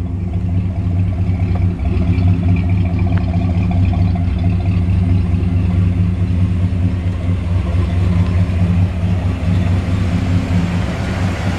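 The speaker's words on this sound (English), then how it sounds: "It's a really nice exhaust sound." A 1952 Willys Station Wagon engine and exhaust running steadily, a deep, even low rumble close by that holds constant with no talking.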